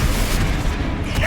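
Confringo fire blast spell from the Hogwarts Legacy video game, a loud broadband explosive burst filling the whole short moment, booming low end with a brief crackling tail.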